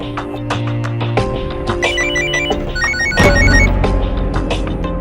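A telephone rings with repeated electronic trilling tones over dramatic background music, with no one speaking.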